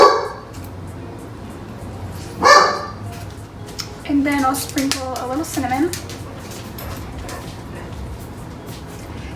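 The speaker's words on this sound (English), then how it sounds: "Excuse my guard dog." A dog barks in a home kitchen during baking, one sharp bark followed by a run of yips and whimpering barks, moderately loud and close, while someone talks over it.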